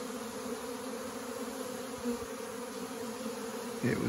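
A steady, dense hum of a fall swarm of honey bees buzzing together, continuous and close, with no voices.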